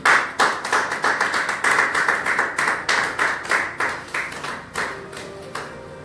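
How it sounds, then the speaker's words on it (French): Sermon audience clapping together in a steady, brisk burst of many hands that tapers slightly toward the end, with no talk over it. "On peut acclamer pour le CD"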